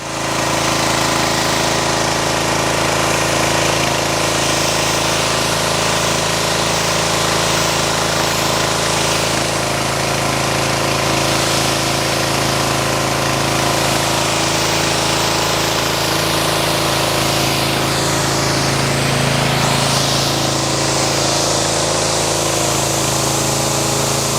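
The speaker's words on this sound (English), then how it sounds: "let's go ahead and get the pressure washer set up and see how this rinses" A pressure washer runs continuously while rinsing a car, a loud, steady pump hum with a hissing water spray throughout, briefly shifting in tone partway.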